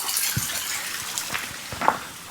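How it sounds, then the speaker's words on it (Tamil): Water trickling and splashing steadily from a cut bamboo stem nearby, a continuous light flow with a few small drips and gurgles, no talking. "அந்த மூங்கில வெட்டி தண்ணி அப்படியே வருது"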